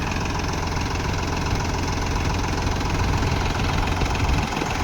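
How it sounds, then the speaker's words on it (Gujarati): A newly bought tractor engine idles steadily at close range, a continuous low rumbling drone with an even knocking throb that holds without a break for the whole stretch, and no one speaking over it. "આ ટ્રેક્ટર હમણાં જ પરચેસ કર્યું"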